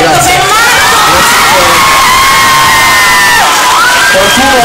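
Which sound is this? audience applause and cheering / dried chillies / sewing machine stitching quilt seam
audience applause and cheering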